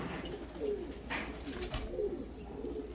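Teddy pigeons coo softly in low, rolling calls repeated a few times against steady background noise, somewhat distant and faint.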